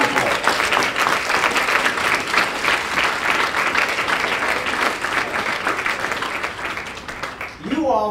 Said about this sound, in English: Give them your veterans an applause